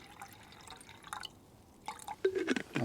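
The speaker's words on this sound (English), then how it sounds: "I'll get some water in the pots and we can compare the boil times." Water poured into camping stove pots, half a litre each, for a budget stove versus Jetboil MiniMo boil test; quiet at first, then brief close splashing and trickling with a rising fill tone near the end.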